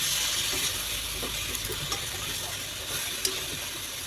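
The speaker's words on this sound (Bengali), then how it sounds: "এটাকে ভালো করে ভেজে নেবো, আমি এটা পুরো ভেজে নেবো" A jackfruit curry mixture fries in a pan with a steady close hiss and sizzle, broken by a few small pops and clicks.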